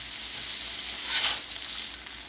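Ground beef browns on a Steelmade steel griddle, giving a steady, close hiss of sizzling grease with a brief louder flare midway and no voices.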